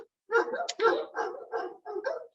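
Dogs bark nearby in a burst of about five loud, sharp barks in quick succession, ending with yappy, whimpering notes.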